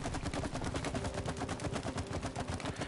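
Rapid gunfire at a shooting-range mini game in the video game It Takes Two, a fast unbroken string of sharp shots, close and fairly loud, with no talk.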